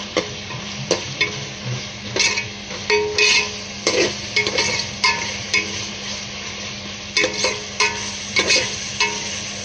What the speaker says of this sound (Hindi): अब मैंने इसमें ये हरी मिर्च और लहसुन अदरक में ये प्याज डाल दी है।